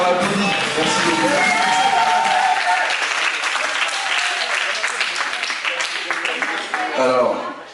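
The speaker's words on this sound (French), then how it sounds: "on applaudit" A crowd at a French game event bursts into loud, sustained applause, with cheering and overlapping voices layered over the clapping before it tapers off.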